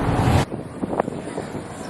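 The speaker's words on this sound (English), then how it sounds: "At least it's a little bit breezy." Breezy wind buffets the microphone outdoors, a loud roaring gust at first that drops to a softer, uneven rumble with small knocks.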